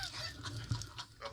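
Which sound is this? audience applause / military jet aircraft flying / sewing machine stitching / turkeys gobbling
turkeys gobbling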